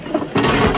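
A prison cell door is unlocked and swung open, a sharp mechanical clack followed by a loud sustained metallic rumble and scrape as it slides, close and dominant.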